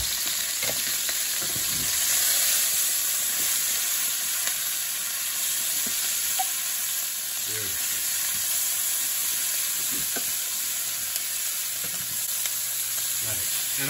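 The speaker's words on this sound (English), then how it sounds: "All right, we're going to add our peppers and onions in there." Yellow and red peppers and onions sizzle in a hot pan, a loud, steady frying hiss with faint stirring clicks that runs throughout, with no voices.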